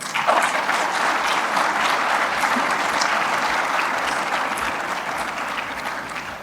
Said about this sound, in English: Maybe a bit of a round of applause for them.